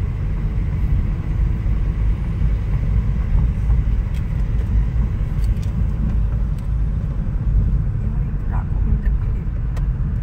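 A car rolls into the parking area at Netaji Subhash Chandra Bose International Airport, its engine a steady low rumble throughout with faint road noise and no break.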